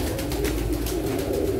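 Soft, continuous pigeon cooing, low and throaty, rolling on steadily for the whole stretch at moderate loudness with no talking.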